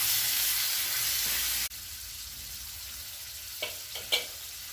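Chicken pieces with salt, turmeric and chili powder sizzle loudly in a pan as they are stirred, then the hiss drops abruptly to a soft simmer broken by a couple of light clinks.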